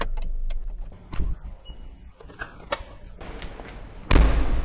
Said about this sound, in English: as I walk away, the car just locked itself